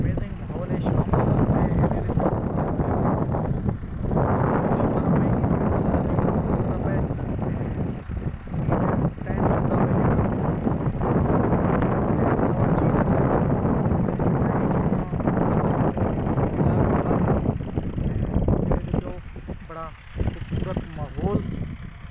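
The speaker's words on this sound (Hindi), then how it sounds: "आज ठंडी ठंडी हवा चलती पी है" Steady wind roars and buffets across an open fish farm in a village on an evening in February, a continuous broadband rush with gusts that sometimes drops a little, while someone talks over it.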